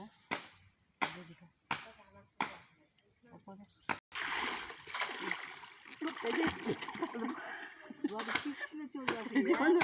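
At a pond, a mother bathes children by pouring water over them with a winnowing basket: several sharp, separate splashes close by, then a continuous sloshing rush of water with people talking.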